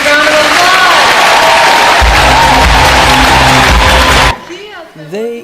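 A loud crowd at MineCon 2013 claps and cheers in a dense, continuous roar, with a voice over it, before the noise cuts off and the voice continues.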